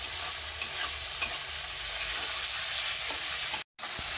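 Sour yogurt stirred into a fried spice paste for duck egg kalia, a steady close sizzle with soft scraping stirs throughout and a brief drop to near silence near the end.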